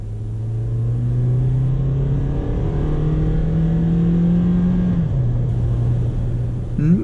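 2012 Toyota Yaris YRS pulling hard through the gears, its engine note climbing steadily, dipping at a gear change and rising again, heard from inside the cabin with road rumble beneath.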